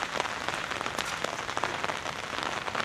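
Steady rain pours down on a mini farm piggery, a dense, even hiss of drops striking surfaces with occasional sharper patters, close by and continuous throughout.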